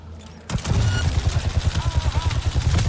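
Rapid bursts of smart pistol fire in Cyberpunk 2077, a fast rhythmic string of punchy shots following a sharp opening blast, loud and close, with faint game sounds and whines behind.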